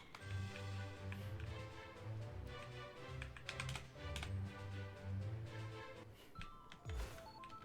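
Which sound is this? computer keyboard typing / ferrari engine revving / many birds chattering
computer keyboard typing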